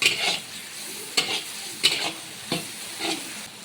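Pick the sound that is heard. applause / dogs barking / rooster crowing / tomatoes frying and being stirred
tomatoes frying and being stirred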